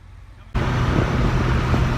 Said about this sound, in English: Mini driving.